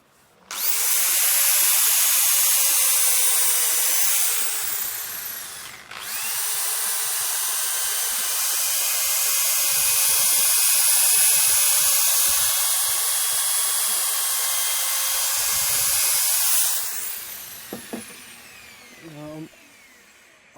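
Sanding a hickory wattle bowl spinning on a wood lathe, a steady loud broadband whir and hiss that runs almost continuously with one short break, then tapers off into a few light knocks and handling sounds at the end.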